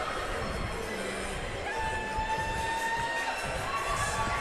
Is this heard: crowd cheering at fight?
yes